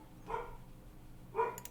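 A dog bark sound effect played during a tabletop roleplaying game session, two separate barks about a second apart, moderately quiet with no talking over them.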